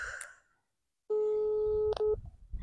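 A telephone call's ringing tone sounds as a steady, loud electronic tone lasting under a second, broken by a brief gap before a short second burst, after near silence.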